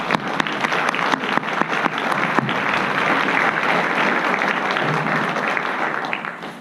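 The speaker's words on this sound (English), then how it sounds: "So if we could just give them a round of applause." Sustained applause from an audience at a scholarship ceremony, dense clapping that starts sharply and holds steady at a fairly loud level throughout, with no talk over it.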